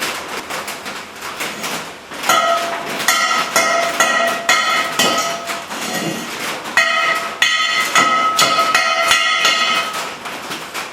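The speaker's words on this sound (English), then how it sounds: "I'm going to get a hammer and knock that slag off so it'll be easier to weld" A hammer knocks welding slag off metal while building a rocket stove, giving sharp, ringing metallic strikes in irregular bursts with short pauses between them, close and loud.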